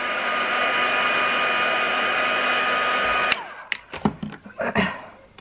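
A hair dryer blows a steady, loud whoosh over freshly painted marker colour on paper, then clicks off and gives way to light tapping and handling sounds.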